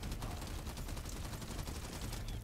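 Rapid, continuous gunfire from a weapon in the video game The First Descendant, a dense rattling burst at steady volume throughout.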